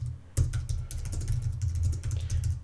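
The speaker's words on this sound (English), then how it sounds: "Now I might type some notes here" Notes are typed on a computer keyboard in a close, rapid, irregular run of key clicks over a low background hum.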